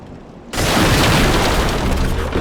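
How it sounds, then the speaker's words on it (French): Firebomb exploding in the game Demon's Souls, a sudden loud boom that becomes a sustained roaring burn lasting about two seconds. "Bombe incendiaire."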